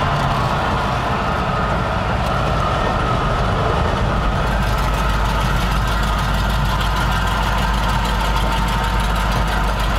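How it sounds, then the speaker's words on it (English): A loud, continuous low exhaust drone from a 1954 Cadillac Series 62 Coupe's muffler, heard through a missing floorboard at about 40 mph in fourth gear, rumbling steadily with road noise and no voices. "The exhaust noise you hear is because there's no floorboard, so you're hearing the muffler"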